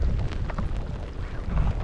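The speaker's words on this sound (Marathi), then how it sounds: "ते पण वारा पण सुटलाय भरपूर" Strong wind by a river buffets the microphone in heavy low rumbling gusts, steady and loud throughout, with a faint hiss of open air above.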